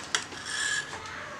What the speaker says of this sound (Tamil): இதை வந்து நான் இது போல இந்த சைஸ்ல வந்து நான் நடுவுல கட் பண்ணிக்கிறேன்.